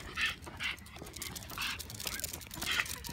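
A dog whimpers and yips during a walk near a London station, several short high-pitched whines in an uneven rhythm, fairly close over steady outdoor background noise.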